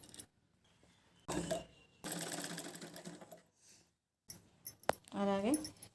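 A sewing machine stitching strap pieces of a baby frock made from a blouse piece, running in short close bursts of rapid mechanical whirring separated by pauses, with brief speech.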